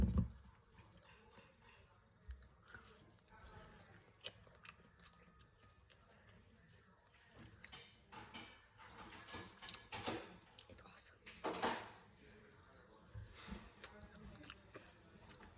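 Pancakes topped with syrup being eaten up close: soft, irregular bites and chewing with scattered crunchy clicks and louder bursts, quiet overall.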